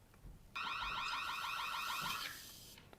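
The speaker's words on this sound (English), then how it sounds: "it has a alarm sounder in it as well" A fire alarm sounder emits a loud, rapidly warbling electronic tone for about two seconds, then cuts off abruptly in a quiet room.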